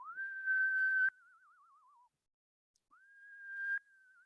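A human whistle imitates a screech owl's whinny: a rising note that holds steady, then trails off in a quavering, descending warble, repeated twice with a short silence between, clear and solitary against a quiet background.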